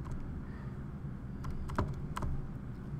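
Calculator keys tapped to enter a list of numeric values for a statistics problem, a few sharp plastic clicks spaced irregularly across a few seconds over a steady background hum.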